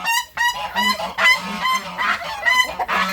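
Geese honk loudly and repeatedly at close range in a farmyard, a run of harsh, overlapping calls with brief gaps between them.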